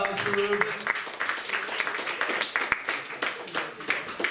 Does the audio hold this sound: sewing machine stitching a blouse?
no